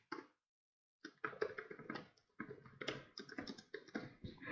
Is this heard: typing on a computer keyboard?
yes